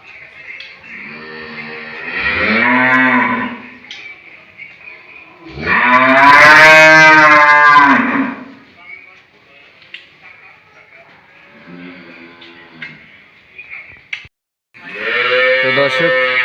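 A dairy cow bellows at a cattle market in Sirajganj, giving several long, loud moos in separate bursts with quieter pauses and low background murmur between them.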